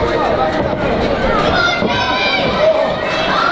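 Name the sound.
wrestling fans cheering in arena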